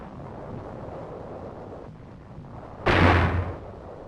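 A single 4.2-inch mortar round fires in 1944 wartime footage, one sharp loud blast with a short rumbling tail over a background of wind noise.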